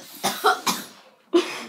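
A person coughs after choking on water, three or four sharp, close hacking bursts with short gaps, the last one loud, with no talk.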